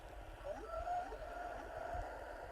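Low, drawn-out whale calls from a plush sleep toy, rising and falling over a steady watery hiss, soft and continuous like a looping soothing soundtrack.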